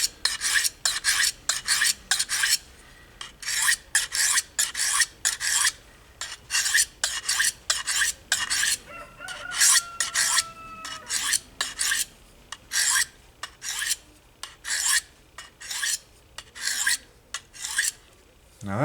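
A knife blade is stroked again and again across a Lansky diamond sharpening stone, in 280 and 600 grit. The close, rhythmic rasping strokes come in quick runs and vary slightly in pace.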